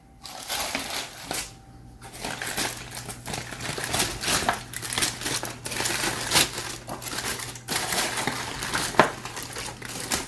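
Foil wrapping is peeled and crinkled away from tender baked baby back pork ribs fresh from the oven, a continuous close rustling and crumpling with sharp crackles throughout, no talking.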